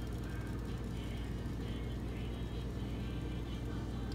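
A Massey desk fan keeps up a steady, close mechanical whir and hum as it spins down after being switched off, holding an even level throughout with no talk.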